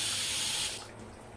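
Water pouring into a pot for pork sisig, a brief hissing rush that stops after under a second and leaves a quiet background.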